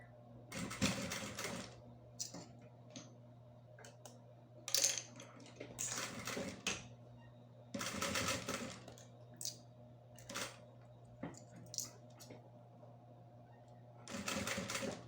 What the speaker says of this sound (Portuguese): Agora, eu vou costurar, passar costura no viés.